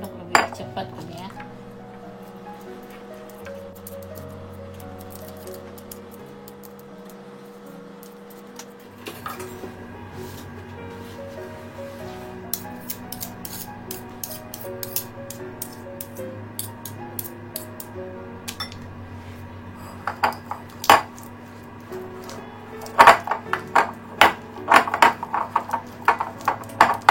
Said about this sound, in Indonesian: Kayaknya diaduk pakai sendok lebih cepat kan ya.